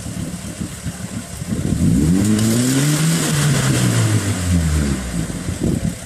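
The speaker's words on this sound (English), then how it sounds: "It really sounds like a tractor with the muffler underwater." A stuck vehicle, likened to a tractor with its muffler underwater, revs its engine while mired at a waterfall crossing: a loud, steady, mid-pitched drone that rises and falls through one long rev, with no talk.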